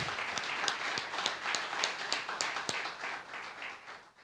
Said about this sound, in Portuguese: Palmas ao Rei dos Reis